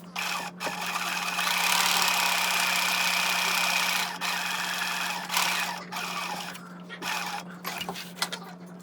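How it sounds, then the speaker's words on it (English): A sewing machine stay-stitching a curved neckline seam on fabric, running in a steady loud whir for several seconds, then stopping and starting in short bursts, with a constant low hum beneath. "You're going to sew from the shoulder seam to the center front"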